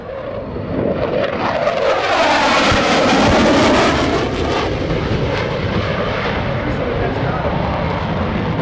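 An F/A-18C Hornet makes a high-speed overhead pass at the 2017 NAS Oceana airshow. The loud jet roar swells to a peak as it passes, then settles into a sustained rumble while an announcer talks over it.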